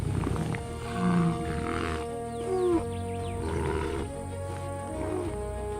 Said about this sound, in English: Its roar is the voice of the savanna itself.